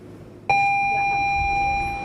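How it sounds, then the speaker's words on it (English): An electronic school bell tone rings out suddenly and holds a steady, bright pitch for about a second and a half over faint background noise. "As school bells ring across the state"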